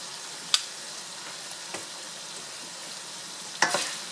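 Pork frying with garlic, onion and ginger in a pan for an oriental-style spaghetti dish, giving a steady sizzle broken by a few sharp clicks and scrapes of stirring, with nobody speaking.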